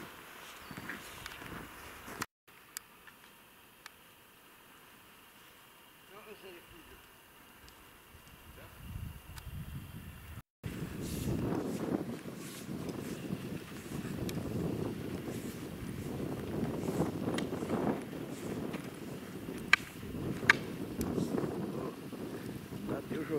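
Steady wind gusting across a high rocky mountain area in the Retezatul Mic range, a soft broadband rush that grows louder and rougher partway through, heard alone without clear talk.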